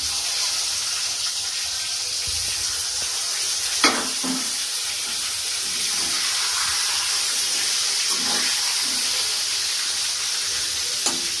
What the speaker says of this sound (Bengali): বাকি যেটুকু আছে এই তিনটেও ভেজে নেব।